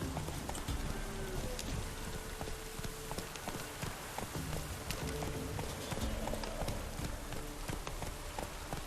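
Horse hooves gallop in the Witcher 3 video game as a fast, continuous clip-clop under a dense, rain-like wash of background noise, with no pauses across the whole stretch.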